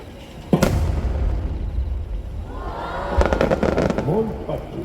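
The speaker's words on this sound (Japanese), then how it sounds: "それでは大玉君、まずは彩色千輪菊です。" A large multicolour thousand-ring chrysanthemum shell at the Nagashima Onsen fireworks display fires with a sharp boom, then, after a pause, a cluster of crackling bursts rings out over crowd murmur and a voice.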